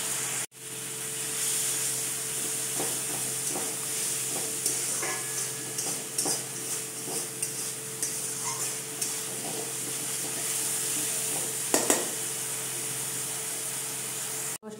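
A spice mixture sizzles in oil in a pan for a vegetarian mixed-vegetable curry while a utensil stirs and scrapes it, producing a steady close frying hiss broken by irregular clinks and scrapes.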